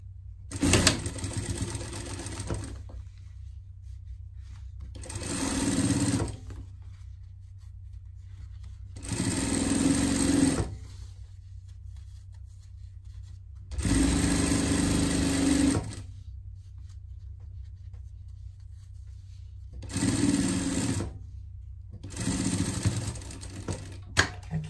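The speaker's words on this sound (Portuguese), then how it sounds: "Passar uma costura de segurança." A sewing machine runs a safety seam along a denim pet vest in several loud, close bursts, each a couple of seconds long and separated by quiet pauses, with no talking.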